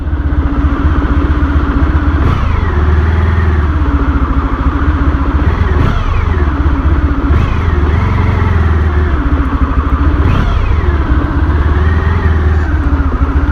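A 1994 Honda ST1100 motorcycle is ridden at night toward Hampton Bays, New York, its engine droning loud and steady throughout, with the pitch rising and falling through several gear changes.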